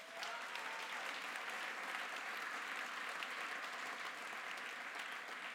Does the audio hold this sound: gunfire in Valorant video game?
no